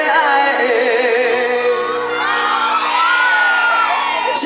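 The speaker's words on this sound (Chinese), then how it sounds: "给自己一个掌声" A large outdoor crowd at a Mid-Autumn Festival evening concert in Zhunan cheers, whoops and shouts loudly and continuously, a dense roar of voices with no pause.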